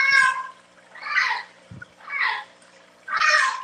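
A cat meows four times in a row, each cry drawn out and fairly loud and close, separated by short quiet gaps, with a faint low knock between the second and third calls.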